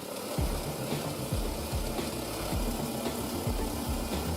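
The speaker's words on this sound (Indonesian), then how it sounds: "baru kemudian dimasukkan ke mesin pencacah" Plastic bottle shredder machine churning bottles with soapy water, a continuous mechanical drone with a repeating low thump roughly every half second, steady and fairly loud with no voices.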